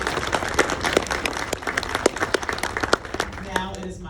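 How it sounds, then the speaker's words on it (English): Audience applause breaks out at a medical assistant pinning ceremony, a steady wash of many hands clapping close by with individual sharp claps standing out, while a voice speaks over it near the end. "He's clapping, so let's clap for him."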